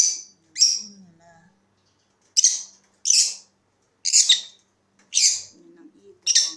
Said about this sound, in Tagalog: Yan ang ibon. Ang lovebird namin.